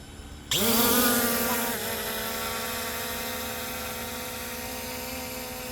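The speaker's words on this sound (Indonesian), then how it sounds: "Kita coba angkat drone-nya sampai dengan ketinggian 20 meter ya teman-teman." An SJRC F22 S3 long-range drone spins up and lifts off, its motors jumping abruptly into a loud high whine that settles into a steady buzzing drone as it climbs, heard close and alone.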